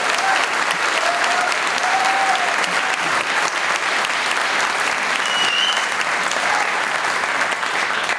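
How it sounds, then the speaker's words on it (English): A large audience at an opening speech event gives a big, sustained round of applause, dense and loud clapping filling the whole stretch without pause, with some scattered cheers. "can we just give them a big round of applause"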